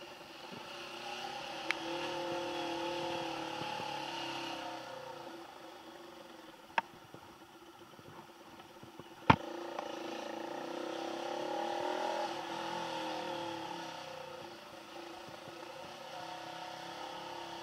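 A Bajaj Pulsar RS 200 motorcycle engine hums steadily at low revs while riding slowly downhill, with a few sharp clicks and knocks along the way.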